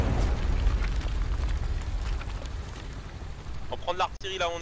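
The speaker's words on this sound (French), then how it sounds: "On prend de l'artillerie là où on est" Heavy rumbling detonations from artillery shelling on Omaha Beach in Hell Let Loose, a deep sustained roar that fades over several seconds before voices come in near the end.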